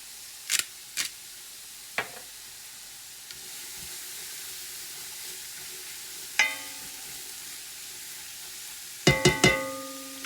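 Chopped mirepoix vegetables seasoned with kosher salt and black pepper sizzle steadily in a pan, a low frying hiss running throughout, broken by a few sharp clatters and scrapes of stirring and utensil knocks.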